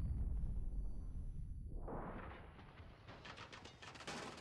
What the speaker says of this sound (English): Oh, someone's shooting me from behind.